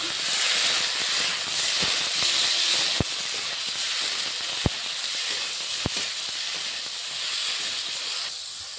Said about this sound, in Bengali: ভালো করে কষাবো এখন